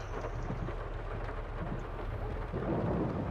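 Heavy rain falling outdoors, a dense steady roar with a deep rumble of thunder beneath it, close and continuous, with no talking.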